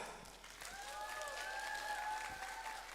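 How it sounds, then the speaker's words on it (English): Audience at a Manipur University tribal week event applauding for Miss Deborah, a soft, steady patter of clapping with a few whistles or cheers rising through the middle, fairly distant and modest in volume. "Can we have a round of applause for Miss Deborah?"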